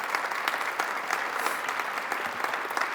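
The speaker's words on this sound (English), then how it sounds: "I'd like to ask you to give them both a big round of applause" Audience applause at a BIPOC fellowship launch event, a steady dense wash of many hands clapping throughout, moderately loud and continuous with no talk over it.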